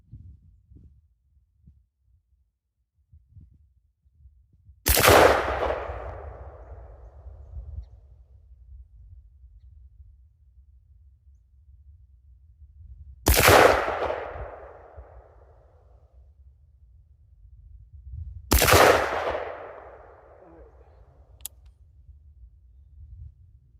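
Three rifle shots from a rifle fitted with a SigSauer Tango MSR 1-6X24 LPVO scope ring out several seconds apart, each a sharp loud crack with a decaying tail, heard from the shooter's position.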